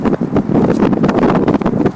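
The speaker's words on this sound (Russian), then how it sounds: "Ветрило задувает." Steady, loud gusts of wind buffet the microphone, a continuous low roar with rustling texture and no pauses.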